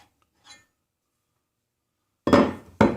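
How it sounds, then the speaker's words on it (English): The tool rest comes off a wood lathe in a quiet shop: a faint tap, a pause, then two sharp metallic clunks close together, near and distinct. "I'll remove the tool rest."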